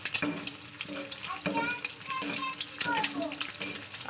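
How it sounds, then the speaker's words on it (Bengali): An egg sizzles and crackles in a hot pan with occasional clinks of a utensil, while a voice speaks faintly in the background. "চলুন এবার ডিমটা ভাজা করে নিই"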